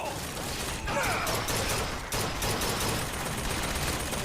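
Gunfire in a video game played on Linux, rapid mechanical bursts and rattling shots that fill the clip densely and continuously at close range, with no voices over them.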